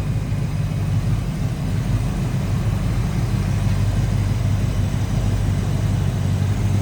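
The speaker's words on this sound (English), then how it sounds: "There it is, 5-liter V8." A 1992 Ford Mustang LX convertible's 5-liter V8 idles steadily up close, a smooth, even low rumble that holds without a break or any talk.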